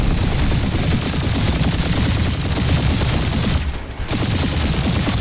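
Rapid turret gunfire in the Guardians of the Galaxy video game, a dense continuous fusillade of loud bursts with a brief dip near the end.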